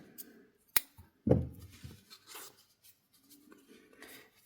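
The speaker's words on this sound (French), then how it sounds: "Je vais faire une maille en l'air et je vais couper le fil." Scissors snip through crochet yarn at the end of a row on an amigurumi Christmas elf: one sharp metallic snip, then a heavier clack and a few soft rustles and handling sounds in a quiet room.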